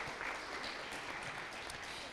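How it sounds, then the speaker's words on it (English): Audience at a school debate knockout applauding St. Paul's team, a faint, even patter of many hands clapping steadily from a distance, with no voices. "A round of applause, please, for St. Paul's."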